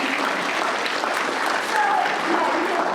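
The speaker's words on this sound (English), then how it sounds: "Let's just give a round of applause for Stacy." An audience at a sobriety talk claps for Stacy in a warm, continuous round of applause that swells slightly toward the end, with no voices over it.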